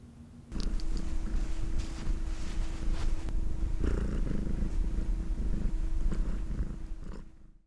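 A cat purrs steadily and close up for several seconds, a low rumbling drone that starts abruptly and fades out at the end, with no talking.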